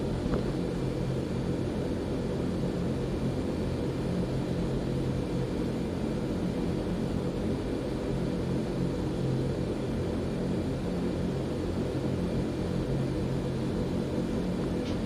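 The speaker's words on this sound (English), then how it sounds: "So yeah, we're flying the Dornier 328." Fairchild-Dornier 328 turboprop in flight in the X-Plane 11 flight simulator, a loud, constant broadband engine and airflow drone, heard alone and unchanging throughout.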